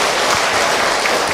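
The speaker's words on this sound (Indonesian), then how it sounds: "Tepuk tangan buat ibu tadi yang bertanya." Audience applause for a woman who asked a question at an Islamic talk on marriage: dense, steady clapping from a crowd, loud and close throughout, with no talk over it.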